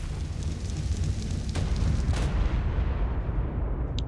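Rumbling explosions from a Celestial creature's explosive orbs in ARK Primal Fear, a continuous heavy low-end roar with a couple of brighter bursts, fading toward the end.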